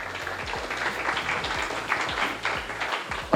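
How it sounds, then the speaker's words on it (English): Applause from the audience at a live goal-setting event, a moderate, steady patter of clapping that continues throughout without speech. "give yourselves a round of applause just for being here"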